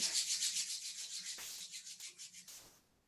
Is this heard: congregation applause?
no